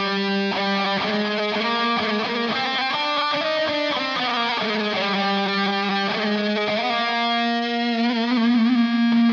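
A HeadRush harmonizer pedal sounds only its third harmony voice over electric guitar, a sustained processed tone with shifting chords and a steady loud level, carrying a distorted, effected character throughout with no talk.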